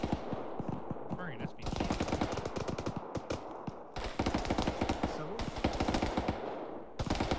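Dense automatic gunfire in Arma 3, rapid bursts crackling loudly almost without pause, broken by brief gaps, with voices talking over the firefight.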